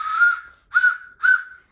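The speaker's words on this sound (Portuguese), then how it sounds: "Já temos aqui um apito pronto." A homemade whistle built from PVC pipe and a cork sounds three short, clear, breathy tones in a row, close and fairly loud, with brief gaps between them.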